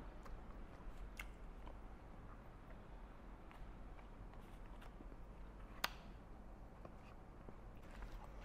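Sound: eating a strawberry chocolate dessert

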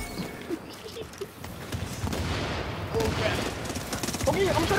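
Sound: gunfire in a video game

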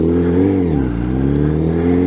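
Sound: Graves titanium slip-on exhaust on 2017 Honda CBR1000RR Fireblade revving

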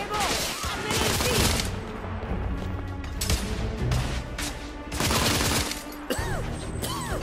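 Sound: gunfire in The Order: 1886 video game

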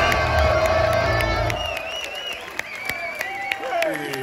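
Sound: concert crowd cheering for a band member

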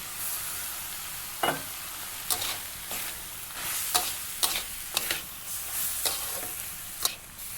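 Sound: stirring sweet corn in a pan

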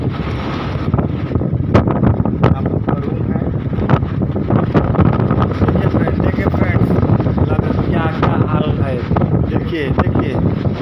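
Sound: strong cyclone wind

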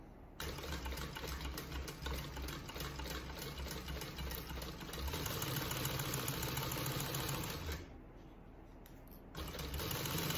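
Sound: sewing machine stitching bag lining slip pocket

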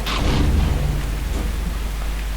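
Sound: rain and thunder in Half-Life 2 video game

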